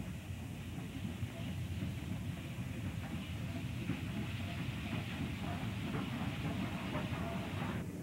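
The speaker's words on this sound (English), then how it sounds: "Here we see a freight westbound coming into Spear from the Denver line." A westbound steam freight train arriving at Spear junction from the Denver line, a steady low rumble of rolling wagons with rhythmic clatter and a faint hiss, heard from a distance with no voices.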